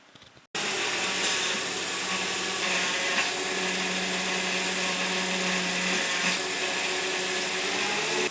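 A Volkswagen Passat 35i engine runs steadily with a whirring, whining power steering pump, the pitch shifting slightly as the wheel is turned lock to lock while bleeding a newly replaced pump; no voices.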